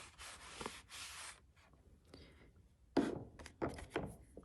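A Swiffer duster rubs excess gold leaf flakes off a greeting card in a few soft, brushing strokes, a quieter run of scrubbing followed by a louder cluster of quick swipes near the end.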